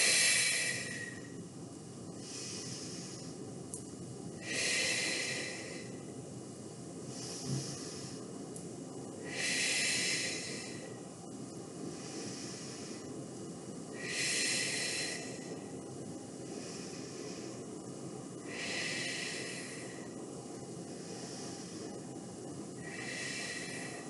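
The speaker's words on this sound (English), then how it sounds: "As you breathe in, you're going to lift those elbows up to shoulder height. Breathing out, slowly come back down." Steady, slow breathing during a gentle seated weights exercise, with about five rhythmic bursts of breathy hiss spaced several seconds apart, each inhale and exhale fairly close and soft over a faint background.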